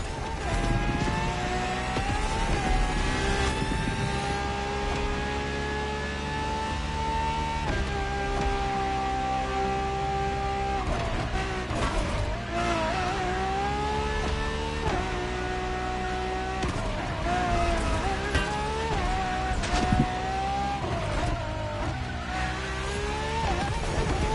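A LaFerrari with an F1-style kinetic energy recovery system, driven in The Crew Motorfest racing game, revs loudly and continuously through repeated rising gear pulls and shifts, with brief tire squeals, alone without talk.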